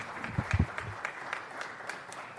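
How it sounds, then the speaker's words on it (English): Brief, fairly faint applause at a city council meeting, a few scattered claps standing out early before fading into a low murmur of room noise. "Give them a round of applause."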